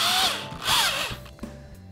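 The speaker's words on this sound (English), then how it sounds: "Now we're going to put the front 2 screws." A power drill drives screws to attach a lawn chair to a homemade hovercraft, whirring close and loud in two rising bursts followed by a short, lower run.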